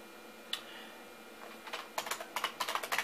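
Quiet clicking of someone typing on a computer keyboard at a DOS prompt, a few isolated taps and then a quick burst of keystrokes, close by with no speech.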